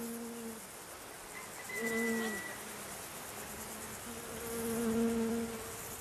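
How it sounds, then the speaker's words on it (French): Honeybees buzzing around hives at a Zen monastery, a steady soft drone with a few individual bees passing closer and louder, their pitch sliding as they fly by. "Aucun pesticide ne vient perturber les abeilles de Ryumonji."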